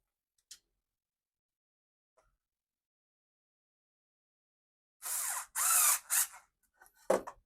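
Cordless drill driving screws to join the parts of a three-piece router guide, heard as a few short whirring bursts near the end after mostly quiet moments, with a faint tick early on.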